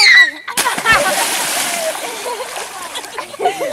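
People splashing while bathing in warm outdoor water on a hot day, with a sharp splash near the start followed by continuous close sloshing and spatter while voices talk over it.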